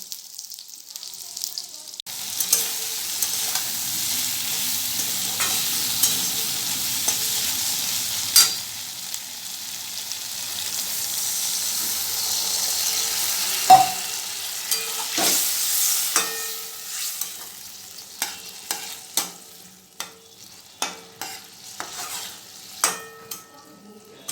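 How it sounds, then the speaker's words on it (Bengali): Taro stolons frying in a pan with nigella seeds and garlic, a steady close sizzle running throughout, broken by repeated scraping and clinking stirs of a utensil against the pan. "এবার লতিটা ছেড়ে দিয়ে ভেজে দিয়ে নিচ্ছি"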